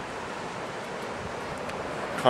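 Sea waves wash steadily under gusting outdoor wind, a continuous broad roar buffeting the microphone, with a brief louder gust at the very end.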